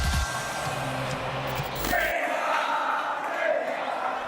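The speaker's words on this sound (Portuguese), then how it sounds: "Mesmo ganhando, uma parte da torcida gritou por Neymar" Football crowd in a stadium at a Brazil versus Croatia international match, part of the supporters chanting for Neymar, a broad steady roar of many voices filling the whole stretch without pause.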